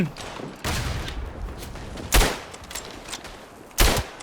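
Gunfire from a World War I weapon in the video game Tannenberg: several sharp, loud shots spaced irregularly, with a dull rumble of battle noise between them.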